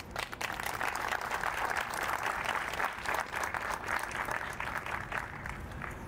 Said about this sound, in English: if you could give a quiet round of applause to Tony Remo